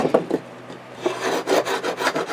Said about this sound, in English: Then I use my scraper tool, and I scrape that.